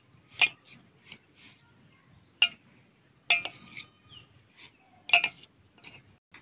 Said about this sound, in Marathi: आता मी या चमच्याने हे सगळं मिक्स करणार आहे.